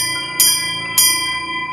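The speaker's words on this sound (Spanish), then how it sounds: "Tenía en las manos el mecate que hacía sonar el badajo de la campana" A bell clapper swung by a pulled rope, two clear rings roughly half a second apart, each strike leaving a bright, sustained metallic tone that hangs on between and after them.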